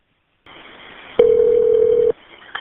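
A telephone call is placed from a police department line: a low hum, then a loud steady tone held for about a second before cutting off, followed by one short beep, with no talking.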